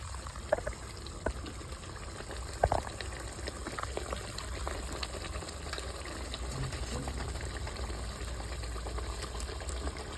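Water poured into a cooking bowl, a steady close trickle and fill that runs for several seconds with a few clicks and knocks of the bowl near the start.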